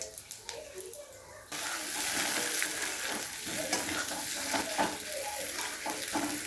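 Whole cumin seeds, dried chili and a bay leaf hit hot oil, setting off a sudden loud, steady sizzle that fills the space after a quieter start, with faint stirring clinks.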